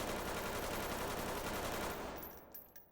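Rapid 5.56 rifle fire in Ready or Not, a steady stream of shots at moderate level that cuts off after about two seconds, leaving a fading tail.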